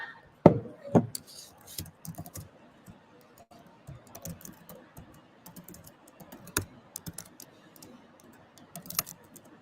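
Scattered keystrokes tap on computer keyboards in a classroom during a beginner Bash scripting lesson, soft irregular clicks with a few louder taps, fairly faint throughout.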